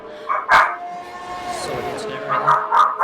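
Dogs bark nearby, a few sharp barks and yips amid a voice, loud and close over a short span.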